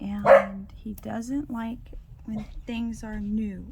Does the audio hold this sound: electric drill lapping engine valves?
no